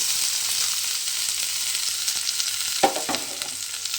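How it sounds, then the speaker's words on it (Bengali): Fried brinjal pieces are stirred back into hot oil, giving a soft continuous sizzle with a couple of sharper scraping stirs near the end, no voices over it. "দিয়ে আবারও কিন্তু তেলের মধ্যে একটু নেড়ে চেড়ে ভেজে নেব"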